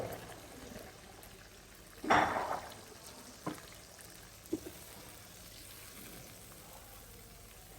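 Chicken leg pieces already browned in a pan take a yogurt masala poured in, giving a short loud splash and burst of sizzling, then a quieter steady frying crackle with a few clinks.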